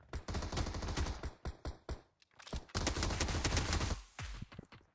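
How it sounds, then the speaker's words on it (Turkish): Gunfire in the PUBG Mobile battle royale game: rapid bursts of close automatic shots and single cracks come in dense clusters, with a short lull near the middle. "Arkamızdan da sıkıyorlar."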